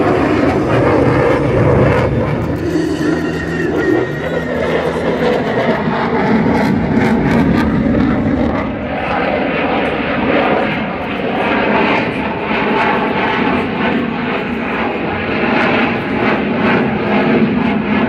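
At the Paris Air Show, a long-winged airliner flies overhead with a loud, sustained jet engine roar that swells and then slowly fades as it passes.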